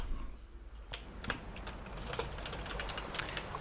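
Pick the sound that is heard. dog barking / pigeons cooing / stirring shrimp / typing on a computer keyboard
typing on a computer keyboard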